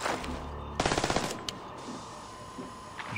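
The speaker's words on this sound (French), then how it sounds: "Je tire pour leur faire un peu peur, tu vois." Gunfire in the Splinter Cell Blacklist video game: a quick burst of about six automatic shots, fairly loud, followed by a couple of fainter isolated pops over game ambience.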